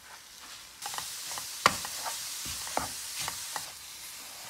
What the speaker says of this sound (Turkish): 3 yemek kaşığı toz şeker ya da pudra şekerimizi döküyoruz ve karıştırıyoruz